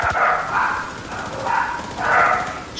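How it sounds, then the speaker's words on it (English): Dogs barking indoors in a room, a few muffled barks in rhythmic bursts at moderate distance, with no clear talking. "the ridiculous amount of barking they're doing"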